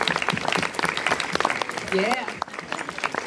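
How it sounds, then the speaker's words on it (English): Festival audience applauding at Buffer Festival 2014, a dense burst of claps and cheering layered under a speaker's voice, briefly dipping before swelling again. "Could we have a round of applause for Danielle?"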